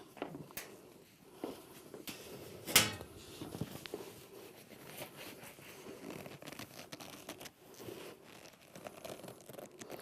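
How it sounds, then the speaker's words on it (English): Leather twisted and creaked while pressed against a very resonant metal air-conditioning shaft, giving crackling, rustling creaks with one sharper crunch near the start, close and fairly quiet. "if I have it against the air conditioning shaft, the piece of air conditioning, which is this very, very resonant metal"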